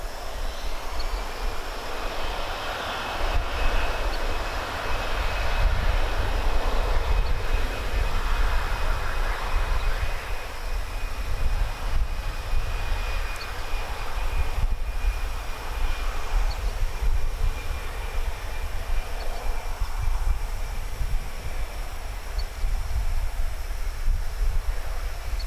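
Airplanes at DFW airport roar through a continuous, wind-buffeted jet engine rumble, with a faint high whine running steadily through it. Heard from an outdoor spotting position at daybreak.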